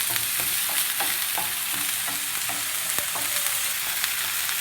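Ingredients frying together in a pan give a continuous bright sizzle that stays even and fairly loud, with faint repeated ticks of stirring running through it.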